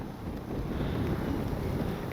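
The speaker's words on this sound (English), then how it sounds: "It's actually way too windy to fly." Strong gusty wind buffets the microphone at an RC airfield, a loud, continuous low rumble and roar that swells slightly and never lets up.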